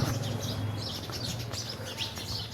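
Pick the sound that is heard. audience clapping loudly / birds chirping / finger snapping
birds chirping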